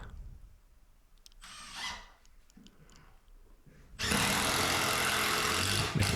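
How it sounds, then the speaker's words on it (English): A power drill drives screws into a wooden bench: a brief whir with faint handling noises, then a loud sustained buzzing run of about two seconds, close and with no talking. "get the screws in."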